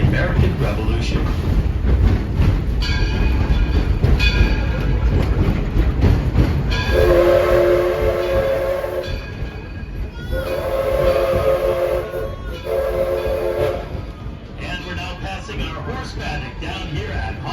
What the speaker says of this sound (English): It's a coal-fired steam engine